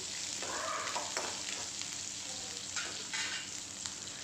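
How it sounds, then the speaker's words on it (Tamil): Shallots, garlic and dried red chillies sauté lightly in a pan for chutney, a soft continuous sizzle with occasional stirring scrapes, quiet and close without any voices. "எல்லாமே லைட்டாக வதக்குனா போதும்"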